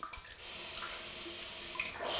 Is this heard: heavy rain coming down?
no